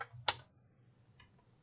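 Computer keyboard keys are struck a few times, quiet and close: one distinct key tap followed by a fainter second tap.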